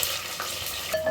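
Green chillies hitting hot oil in a pot for vegetable biryani, giving a steady close sizzle with light stirring scrapes throughout.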